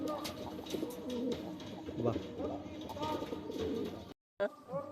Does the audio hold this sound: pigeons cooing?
yes